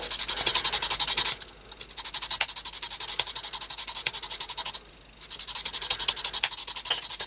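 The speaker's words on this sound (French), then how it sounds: "On va poncer un peu." A surface is sanded by hand in fast, steady back-and-forth strokes that give a dense scratchy rhythm, broken by two brief pauses.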